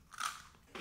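Crunchy Filipino pillow snacks bitten and chewed close to the microphone, with a loud crisp crunch followed by a second crackly bite, and no talking.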